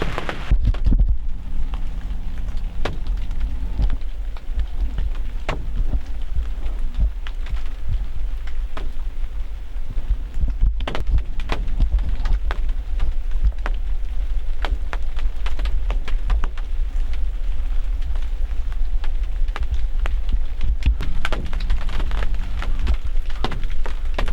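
Steady, dense rain falls continuously in Wisconsin woods during bowhunting, a constant hiss of drops on surfaces with occasional louder patters and a low rumble beneath.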